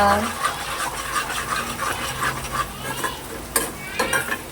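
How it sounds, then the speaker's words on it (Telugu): Beef brain fries in a pan while being stirred continuously toward browning, giving a steady run of close spatula scrapes and clinks over a low sizzle. "అడుగు అంటకుండా బ్రౌన్ కలర్ వచ్చేంత వరకు ఫ్రై చేసుకోవాలి, కలుపుకుంటూనే ఉండాలి ఇలాగా."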